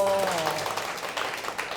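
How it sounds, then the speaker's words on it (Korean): Lecture audience applauding a photographer's award-winning story: a burst of clapping from many hands that starts strong and gradually thins out, with a voice trailing off at the very start. "박수 한번 주세요"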